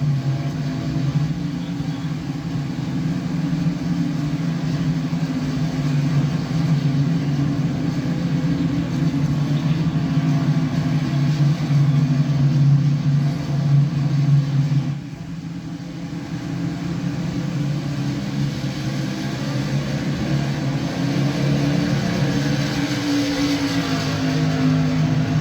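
Race trucks at Charlotte roar away together on a green-flag restart in the Gander Outdoors Truck Series, a loud, steady, droning engine wall that dips briefly midway and then builds again.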